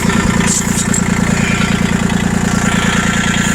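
A tractor fitted with a front bucket and rear blade idles steadily during snow plowing, its low, even diesel rumble continuous and close throughout with no talk.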